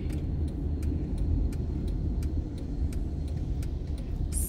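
A car driving on a quiet road at night gives a steady low rumble of engine and tyre noise throughout, with faint regular ticking above it, close and continuous with no talk.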